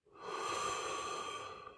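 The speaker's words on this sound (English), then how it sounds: "Her grandmother's breathing." An elderly woman's breathing, a single soft, drawn-out breath with a faint whistling tone, quiet and close, heard alone in stillness.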